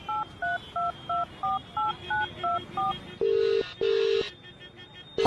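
A mobile phone dials a number: about nine crisp, evenly spaced keypad tones beep in steady rhythm, then two longer ringback tones follow, clear and close in a quiet room.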